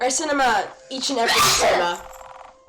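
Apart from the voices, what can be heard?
sneeze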